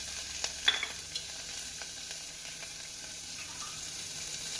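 A large chopped onion sizzles in a pan for a potato-tomato kurma with a soft, constant hiss, a few clicks and scrapes of stirring near the start, no voices.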